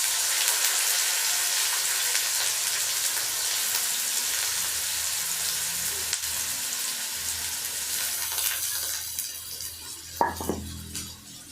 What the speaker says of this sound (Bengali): আমরা কড়ায় তেল দিচ্ছি, তেল গরম হয়ে গেছে, এবার আমি তার উপরে পেঁয়াজ দিলাম।